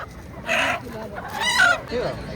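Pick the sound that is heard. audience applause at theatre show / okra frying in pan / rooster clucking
rooster clucking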